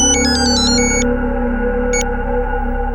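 In a Crime Patrol drama scene, a phone rings with a call from the police: quick, bright electronic beeps in a rapid burst, then a short second burst, over a sustained droning music bed.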